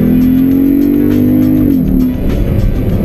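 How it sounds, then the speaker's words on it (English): A Porsche Cayenne Turbo drives hard, its engine a steady loud drone with a rising whine that bends and fades as tires squeal briefly, heard close up without talk. "Yeah, it's a Porsche"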